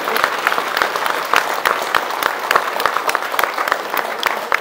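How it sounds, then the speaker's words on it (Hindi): An audience in a hall claps together, a dense, continuous burst of applause with sharp individual claps standing out, no voices on top. "जरा तालियां बजाएं अपने लिए सब मिलके"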